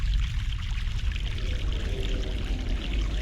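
A stream of fresh mountain water in The Longest Journey, a steady rushing and pouring flow heard up close, constant and alone for a few seconds.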